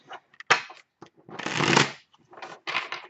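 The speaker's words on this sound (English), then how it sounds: "Let's shuffle these cards for Aquarius" A Thoth tarot deck being shuffled by hand in short bursts of riffling card noise, close and crisp, with brief pauses between shuffles.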